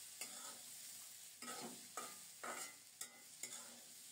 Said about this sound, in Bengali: এদিকে পেঁপে ভাজাও হয়ে আসছে।